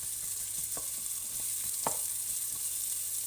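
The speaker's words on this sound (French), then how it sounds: "il n'y a que l'oignon et l'ail où là vraiment on les laisse cuire tranquillement à feu doux" Onion and garlic fry gently over low heat in a wok, a steady soft sizzle with a few faint taps of stirring, heard close and alone.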